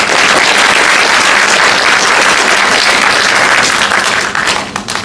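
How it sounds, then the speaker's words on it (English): Loud, dense applause from a large audience at a university lecture hall event, steady sustained clapping that fills the space and tapers slightly toward the end, with no talking over it. "Let us again clap our hands to show our deepest gratitude."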